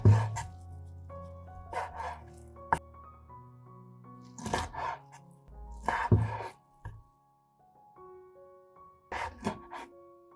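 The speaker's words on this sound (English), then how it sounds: "so we use a knife to cut them a little smaller" A knife chops raw chicken feet into smaller pieces in a few short bursts of cutting and scraping, separated by quiet pauses, with no one speaking.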